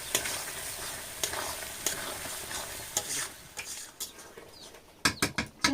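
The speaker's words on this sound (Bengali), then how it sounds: "ভেজে রাখা গলদা চিংড়ি চিংড়িটার সাথে মশলাটাকে ভালোভাবে কষিয়ে নেবো" Fried giant prawns stirred with spice paste in a pan, continuous sizzling overlaid with repeated scraping strokes and sharp clinks of a utensil on metal, growing busier toward the end, close up with no talk.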